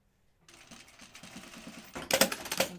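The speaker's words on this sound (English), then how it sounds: "So yeah, I'm going to sew this from this side." A sewing machine stitches along a V neck on fabric, its motor whirring in a steady rhythmic run that builds louder toward the end after a silent start.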